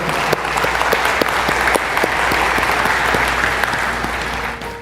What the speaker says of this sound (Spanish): ¿Puede darle un aplauso por esas ovejas?